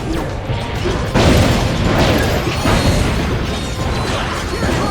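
Loud, continuous explosive blasts and crashing booms layer over one another, with a sharp burst standing out amid a dense roar, in the video game Ratchet: Deadlocked.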